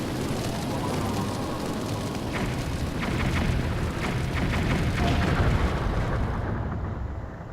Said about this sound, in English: If you stay in there, the explosions will start hurting the crap out of you.